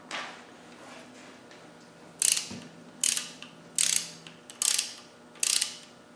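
Torque wrench on 200Tdi oil cooling jets, five short ratcheting clicks in a steady rhythm about a second apart, close and crisp over a quiet workshop background.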